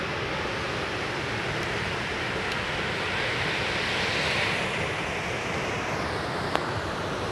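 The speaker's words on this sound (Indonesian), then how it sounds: "Ombaknya juga agak mengerikan karena sudah jam 5 sore" Ocean surf rolls steadily onto Ngitun beach in Gunung Kidul in the late afternoon, a continuous broadband wash of breaking waves with a slight swell midway and one brief click near the end, no voices.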